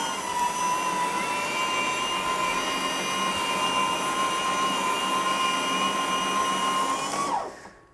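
Lawn scarifier dethatching grass, a loud, steady motor whine with a constant high tone, running evenly up close before winding down at the end.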